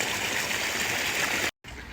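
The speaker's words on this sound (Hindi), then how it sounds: "दूसरी तरफ खेत को पानी हमने लगा दिया है।" Irrigation water flows steadily into a farm field, a constant rushing, trickling stream close to the microphone, briefly cut to silence near the end before resuming.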